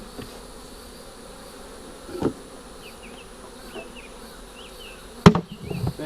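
Honey bees at an opened long hive on a rainy day make a steady, close buzzing, with single bees zipping past now and then and a couple of sharp knocks from hive equipment.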